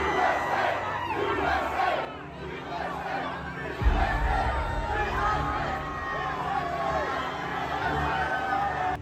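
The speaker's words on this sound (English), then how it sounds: "The crowd chants" A large crowd at an American political rally chants and shouts together, rhythmic massed voices rising and falling over a general babble, loud and close.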